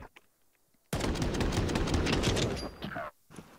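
A rapid volley of USP pistol gunshots in a Counter-Strike match at IEM Katowice 2025, loud, sharp and close, following a quiet moment and stopping abruptly.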